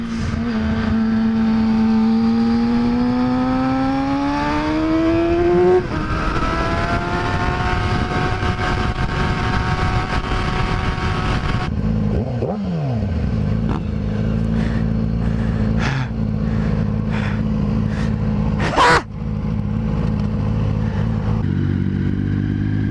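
Yamaha R6 sport motorcycle riding at speed, its high-pitched engine climbing through the revs and shifting gears, then a lower rumble with wind and clattering, close and loud throughout.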